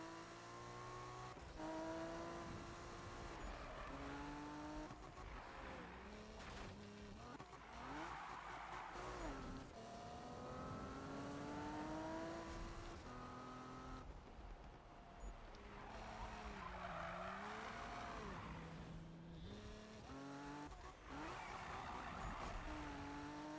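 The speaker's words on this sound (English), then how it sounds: "the car is actually really good for drifting, even when it's on grip" Toyota Supra with a 1030 HP grip and drift build in Need for Speed 2015, its engine howling through rising and falling revs as it drifts, with loud sustained tire squeal running almost continuously.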